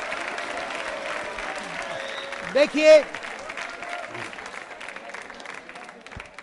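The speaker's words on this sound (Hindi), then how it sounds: "आयुषी के लिए जोरदार तालियां।" Audience applause at a quiz show, broad clapping running steadily under a host's voice, with a louder burst of speech partway through.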